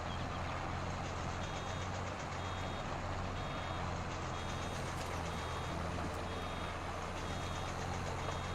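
Truck reversing beeps in Farming Simulator 22, a steady series of evenly spaced electronic beeps over a continuous engine rumble, with no talk.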